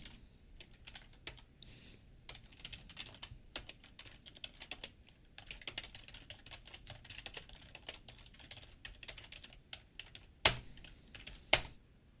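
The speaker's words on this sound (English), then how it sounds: "And all I'm doing is typing a couple of simple commands" Commands being typed on a computer keyboard, light scattered key clicks in uneven bursts with a few louder keystrokes near the end, close and quiet with no speech.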